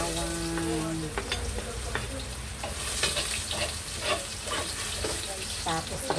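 Garlic frying in a pan for mung bean (munggo) stew, a dense sizzle broken by repeated clinks and scrapes of a utensil, close and fairly loud, with a faint hum early on.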